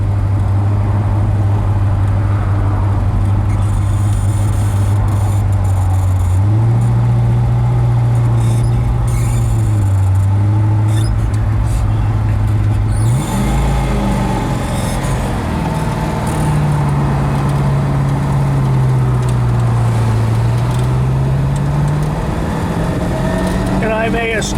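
A 1965 Pontiac GTO convertible cruises on a test drive, its engine droning loud and steady from inside the car, the pitch rising and dropping through gear changes and acceleration.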